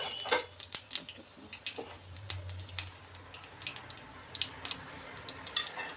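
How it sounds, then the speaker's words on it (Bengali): Panch phoron and dried red chillies hit hot oil in a kadai. Several sharp crackles and spits come in a close, irregular burst and then give way to a softer sizzle, with no voices. "কড়াই তেল দিয়ে দিয়েছি, এবার 5 ফোড়ন আর শুকনো লঙ্কা দিয়ে দেব।"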